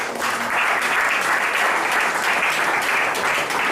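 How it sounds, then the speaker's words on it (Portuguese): Church congregation applauding the word of God during a vocational gathering, a loud, dense wash of clapping sustained evenly throughout. "Vamos aplaudir a palavra de Deus?"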